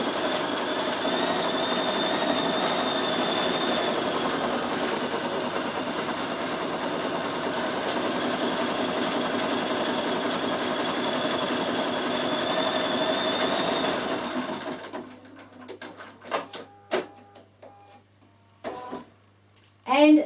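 A Bernina 7 Series embroidery machine with its embroidery module hums and stitches steadily at close range, then stops and gives way to sparse clicks and thread-trimming sounds.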